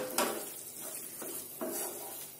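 A spoon scrapes and stirs soya chunks coated in masala in a pan, making a few soft scraping strokes over a light, steady sizzle, close by and without speech.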